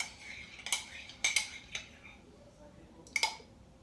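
Spoon scraping and clinking against a bowl while stirring a sticky honey face mask mixture, a few sharp taps and scrapes spaced irregularly, with soft background noise.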